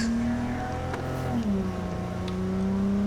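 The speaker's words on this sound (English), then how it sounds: "The car is actually driving itself." A car in Cyberpunk 2077 drives on its own, its engine note humming steadily then shifting pitch as it changes speed, close and even, with faint game ambience behind.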